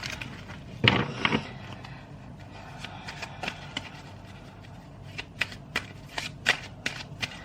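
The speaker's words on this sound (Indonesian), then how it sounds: "aku shuffle dulu kartunya" Tarot cards are shuffled close by in a quiet room, first a brisk riffle and then a string of soft, irregular flicks and taps as the deck is worked by hand.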